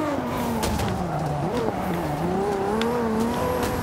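Several race cars in Forza Motorsport 5 run three abreast in a multiplayer race, engines droning steadily and shifting in pitch throughout, with faint tire noise.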